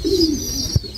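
Pigeons in a loft give a soft, drawn-out cooing call close by, with one short low thump near the end and no voices.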